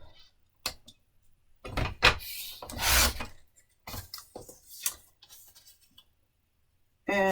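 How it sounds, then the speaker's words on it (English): A paper trimmer slicing cardstock for a handmade Christmas card box, heard as a few short scraping, rasping strokes with brief gaps between them, close and moderately loud, with no voices. "since I have the paper trimmer out, I'm going to cut this"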